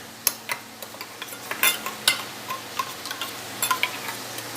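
A spoon mixes cumin, coriander and chili powders with water in a bowl, giving a string of light, irregular clicks and taps against the bowl's sides, fairly close and alone.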